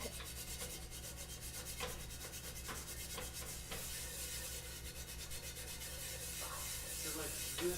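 Quiet, continuous scrubbing and rubbing on a cast iron skillet being stripped for re-seasoning, a steady abrasive scratching with faint irregular strokes throughout.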